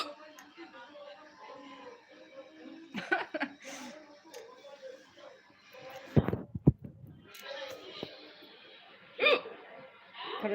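A person hiccuping after eating spicy chilli, several abrupt hiccups scattered through the clip between stretches of talking.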